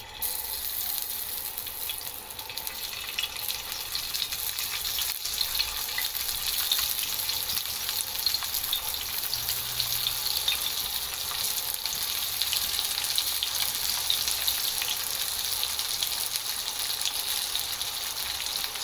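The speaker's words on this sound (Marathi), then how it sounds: "हे बघा, तेल थोडंसं गरम करून घेतलं आहे। आता आपण त्यामध्ये ही भरलेली भेंडी आहेत ना ती सोडणार आहोत।" Stuffed okra fries in hot oil, a steady, even hiss of bubbling oil that holds at a constant level throughout, close by with faint clicks and no voices.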